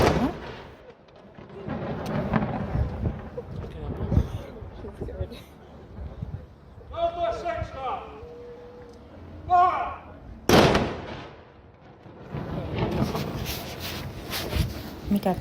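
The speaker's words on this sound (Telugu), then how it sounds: "జస్ట్ అక్కడ అట్లా బ్లాస్ట్ అయిపోతుంది" Explosions and gunfire from World War I battlefield footage: scattered booms and bursts recur throughout, with one sharp, loud blast near the middle, heard under an ongoing spoken commentary.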